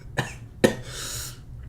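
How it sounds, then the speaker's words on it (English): A person with a sore throat coughs twice, short harsh bursts, followed by a drawn-out breathy wheeze, close by and moderately loud. "my coughing is not so much like coughing, it's more like wheezing"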